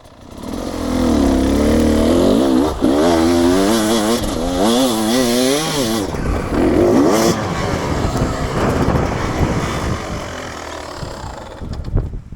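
Repaired motorcycle engine running and revving, with loud rising and falling rev sweeps near the start that settle into a rough, steady idle.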